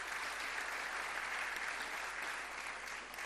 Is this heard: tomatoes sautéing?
no